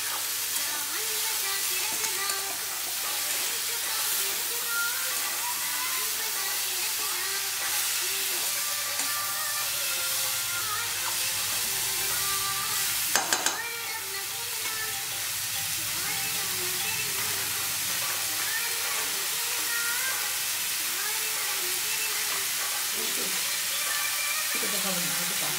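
Soaked chickpeas fry with spice masala in a pan, a steady close sizzle and hiss broken by occasional stirring scrapes and a brief louder clatter midway, with faint talk now and then.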